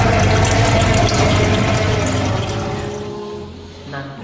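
Water rushes loudly into a middle tank after valve F24 is opened, a dense, steady gushing that eases and fades over the last second, with no talking.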